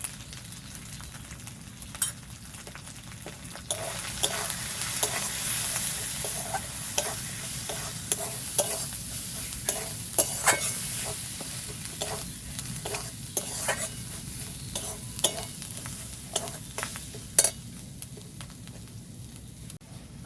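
Chicken with turmeric powder sautés in a pan for chicken kosa, a steady close sizzle punctuated by regular scraping stirs of a spatula throughout.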